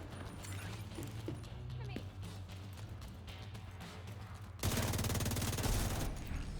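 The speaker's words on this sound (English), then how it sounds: "Rocket launch" Video game rocket launch, a sudden loud broadband roar bursting in near the end after a stretch of busy game sounds and gunfire-like clatter.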